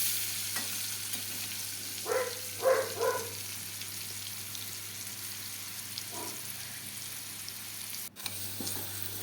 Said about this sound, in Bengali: আমার আলুটা ভাজা হয়ে গেছে, এবার আমি পটলটাকেও ভেজে নেব